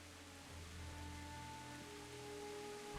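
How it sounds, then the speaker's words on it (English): Steady, soft rain falls in the Kingdom Come: Deliverance video game near Skalitz, a faint, even hiss of drops that carries on without a break while a low ambient hum sits underneath. "It's always raining in this part of the game"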